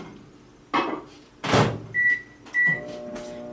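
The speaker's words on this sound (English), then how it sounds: "you're going to go ahead and put it in the microwave for about 30 seconds" A microwave oven is set to heat cottage cheese for about thirty seconds: a door thunks, buttons beep twice, and the oven starts with a low, steady hum, all close and loud in a kitchen.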